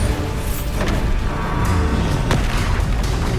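A Bombarda blasting spell in the game Hogwarts Legacy gives a dense, rumbling boom with a few sharp crackling bursts over a continuous loud roar.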